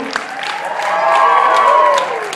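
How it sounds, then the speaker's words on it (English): A crowd at a comedy night applauds and cheers, with scattered whoops rising over the clapping for a couple of seconds. "Give him a round of applause"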